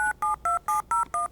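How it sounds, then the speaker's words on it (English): A pocket autodialer gadget held against a telephone plays six crisp DTMF dialing tones in a quick, even sequence, loud and close, with no talking over them. "and it automatically dials Nicole's phone number."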